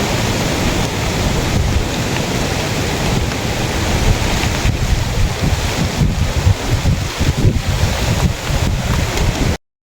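Loud, continuous rush of surf and wind at the shore, with gusty buffeting on the microphone and rolling wave wash throughout.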